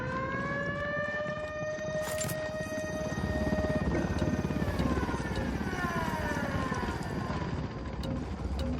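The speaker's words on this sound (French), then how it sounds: "Baissez-vous, un hélico." A helicopter in Ghost Recon Wildlands makes a steady droning whine with shifting tones that holds throughout, loud and close, with no talking over it.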